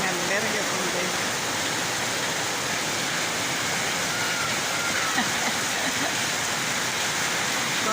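Heavy rain from Hurricane Eta pours down in Villanueva, a dense, even hiss that holds unbroken and loud across the whole span.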